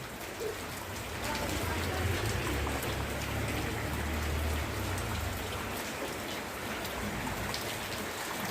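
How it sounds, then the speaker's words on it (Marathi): Steady, close rain pattering on surfaces under a cloudy sky in Golvashi, Lanja, a dense continuous hiss with a low rumble, and faint bird calls now and then. "पाऊस पाऊस नुसता पाऊस"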